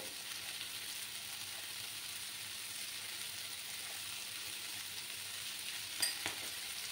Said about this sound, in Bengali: নুনটা দিয়ে ভালো করে আবার কষিয়ে নেব।